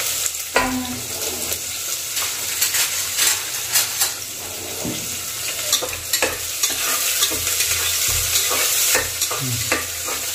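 Onions fry in a pan for vegetable pulao and are stirred repeatedly, giving a continuous loud sizzle broken by rhythmic scraping and clacking of the spoon, close up, with a little water splashing nearby.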